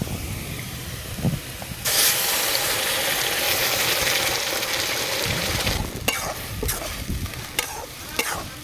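Pointed gourd paste dropped into a hot pan bursts into a loud sustained hiss and sizzle, followed by scraping and stirring knocks of a spatula against the pan while the frying continues.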